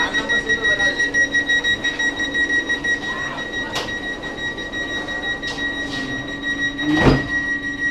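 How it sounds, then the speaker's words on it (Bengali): A Vande Bharat Express train's automatic door slides shut with a brief loud mechanical thud near the end, over steady cabin hum, beeping tones and some background chatter. "তো দেখুন গেট বন্ধ হচ্ছে"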